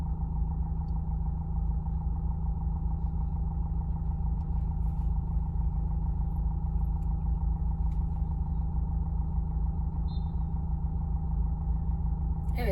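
Car idling at a traffic light with the clutch held half pressed, a steady low engine hum with a constant droning tone, close and unchanging throughout, no talk.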